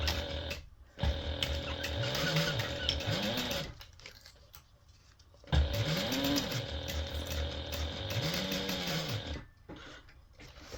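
A sewing machine stitches a fabric binder cover in two long bursts of rapid mechanical whirring, with a brief pause between them and short stops at the start and end. It is heard close up and alone.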